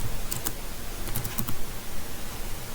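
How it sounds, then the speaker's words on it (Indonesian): Someone types an apt-get install vim command on a computer keyboard, giving a quiet run of close key clicks in small bursts over a faint steady background hiss. "kita bisa ketikkan apt get install vim"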